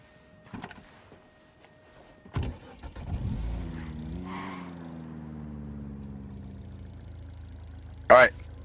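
A vehicle in Ghost Recon Wildlands cranks and catches, then its engine settles into a steady mid-pitched idle. Door clunks come before the start and a sharp click follows near the end, with no talking.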